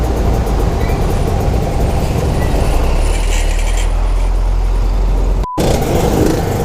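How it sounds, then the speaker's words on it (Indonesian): Garbage truck rumbling past on a street, a loud, heavy low engine drone that stays close and continuous, with a brief dropout near the end. "truk sampah, Cok."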